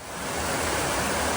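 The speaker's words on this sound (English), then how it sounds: "There is the waterfall that just drops." A waterfall drops beside a river portage trail between two lakes, a dense, steady roar of rushing water that swells slightly, with no voices.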